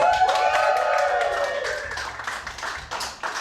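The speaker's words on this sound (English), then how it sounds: "Clap it up for round two." Audience clapping at a live comedy game show: a short burst of steady claps that fades away, with music or tonal sounds running underneath.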